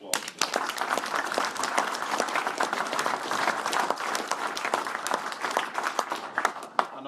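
A crowd at a political rally in a hall applauds steadily, dense clapping filling the room at an even level for several seconds.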